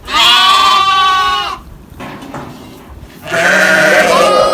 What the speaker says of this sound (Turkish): koyunlar da kuzuları salacağım zannetti ben bağırıyorlar kuzularını